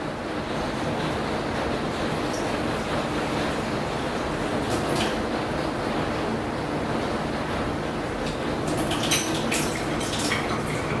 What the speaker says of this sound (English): So what I'm going to do is I'm going to add in 1 cup of water.